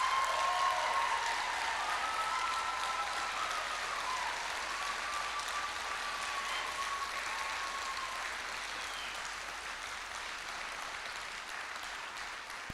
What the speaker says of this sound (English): let's give Class 10 a huge round of applause for the graduation.